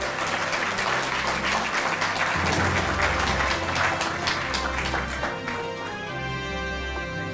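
An audience claps loudly at a Delhi ceremony honouring athletes with cash awards from the Chief Minister; the sustained applause rides over background music and fades slightly toward the end.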